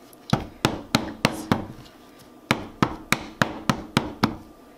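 Sharp, close tapping of a mold holding layered purple soap, two bursts of five and seven evenly spaced knocks separated by a short pause, with no talk.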